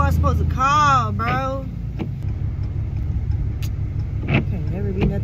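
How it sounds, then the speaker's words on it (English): Cars pass on a road, their engine and tyre rumble swelling and fading under a man's nearby speech, with a couple of brief passing whooshes later. "Cars passing me and stuff."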